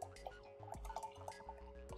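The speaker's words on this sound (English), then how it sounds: "Some nice prettiness with the pour." Pomegranate witbier pours into a glass close up, a quiet series of glugging splashes and drips with a brief bubbling swell.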